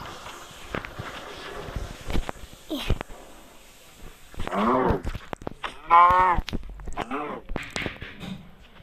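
A cow moos in a farming video game, a few drawn-out lowing calls near the middle and end, separated by quieter stretches with soft footsteps and scattered clicks.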